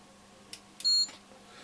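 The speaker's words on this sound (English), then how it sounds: "So that's actually made a beep." Capacitor tester on a Roberts R600 radio emitting a single short, clear electronic beep, close and moderately loud, preceded by a couple of faint clicks in a quiet room.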